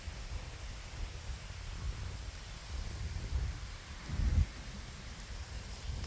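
Steady rain pours outdoors beside a village vegetable patch in the rainy season, with a low thunder rumble swelling briefly toward the end beneath the hiss.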